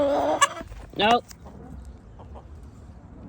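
A farmyard chicken gives a couple of short sharp clucking squawks close by, followed by quiet background with a brief spoken word.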